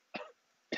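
Two short, close coughs, the second one harsher and cut off at the end, separated by a brief silence.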